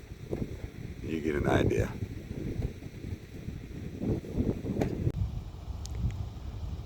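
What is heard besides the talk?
wind blowing outdoors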